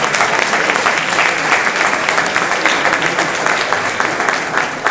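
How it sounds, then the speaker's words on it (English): A crowd at a 50th anniversary celebration at the Carnegie applauds loudly and steadily, a thick, even roar of clapping that fills the whole stretch. "That deserves a round of applause."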